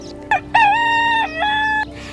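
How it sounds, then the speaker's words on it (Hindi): A rooster crows in a storytelling animation: a short opening note, then a loud, clear, drawn-out cock-a-doodle-doo with a falling final note, close and alone. "मुर्गे ने बांग दी।"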